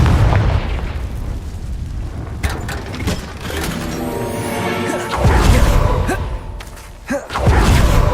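A Bombarda spell detonates in Hogwarts Legacy, a deep rumbling boom that swells and rolls on among other crackling spell blasts and mechanical game effects, loud and close.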